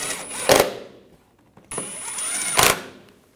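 A power tool snugs down bolts on the tensioner pulley of a 2011-2018 Volkswagen Jetta TDI wagon in two close whirring bursts, each ending in a sharp clack as the bolt seats.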